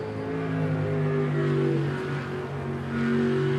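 A jetsprint boat driven by an L98 6-litre Chevy engine of 520 horsepower races at a Wanganui championship, its engine holding a loud, steady revving drone that rises and falls slightly at a moderate distance.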